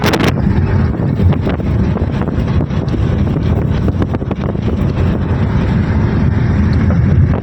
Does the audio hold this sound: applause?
no